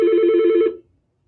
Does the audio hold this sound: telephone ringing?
yes